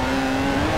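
A tuned car engine in Forza Horizon 4 revs hard and steady, loud and close, a dense roaring drone filling the short moment with no talk.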